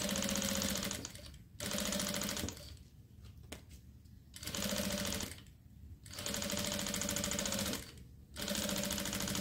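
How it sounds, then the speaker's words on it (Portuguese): A sewing machine stitching a zippered toiletry bag runs in bursts of steady, rapid stitching, pausing briefly between runs, close and loud with no talking. "E vou fazer a mesma costura desse lado aqui."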